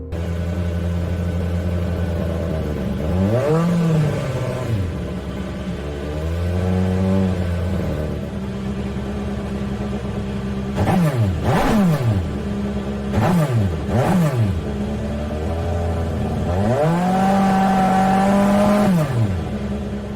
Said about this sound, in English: that is the engine from the Ford GT LM race car test edition